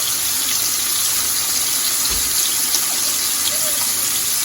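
Water runs in a steady broadband splash, likely poured into a hot cooking pan with vinegar while kielbasa sausage and sweet peppers cook, continuous and fairly close with no talking.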